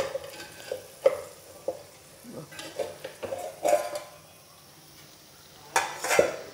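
A metal pot lid is lifted and handled over a simmering fish curry, giving clanks and scrapes of metal cookware over a soft bubbling sizzle, close and moderately loud, in uneven bursts with quiet gaps.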